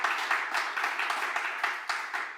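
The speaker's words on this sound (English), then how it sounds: "Quick round of applause." An audience applauds after a panel discussion, a steady moderate patter of many hands clapping together in a room, without voices.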